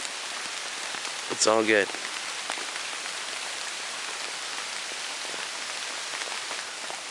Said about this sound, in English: hear the raindrops in the forest